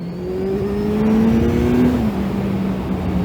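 Kawasaki Z1000SX motorcycle engine and exhaust revving in first gear nearby, a rising growl that swells, holds, then drops back to a steady lower note.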